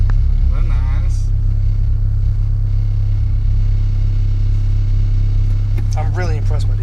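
A 2006 Acura RSX with 143,000 miles rumbles with a deep, steady, loud exhaust drone while driving, heard from inside the car under people talking.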